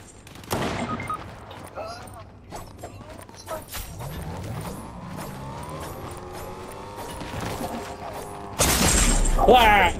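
Gunfire in the Fortnite video game cracks in sharp bursts with mechanical clatter, followed by a sudden loud blast near the end, while a player talks.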